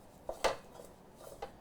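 Metal muffin pans clink lightly while being brushed with butter, giving a couple of soft taps and one sharper knock within a quiet kitchen, with no talking.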